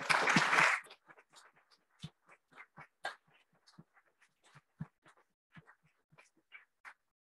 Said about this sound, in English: Let's give everyone a big clap.